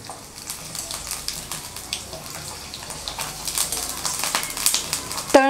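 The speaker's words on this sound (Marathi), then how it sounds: "आता या शिजवलेल्या तळून घेते" Steamed sabudana (sago) papad frying in hot oil, a busy crackling bubble that grows louder toward the end, with a brief clatter at the close.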